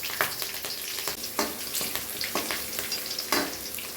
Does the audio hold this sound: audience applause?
no